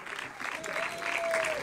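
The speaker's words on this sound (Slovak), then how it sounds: "Potlesk aj pre nich." An audience claps steadily at a Slovak folk music festival, Muziky pod Poľanou 2022, dense applause that holds and swells slightly, with a voice speaking over it.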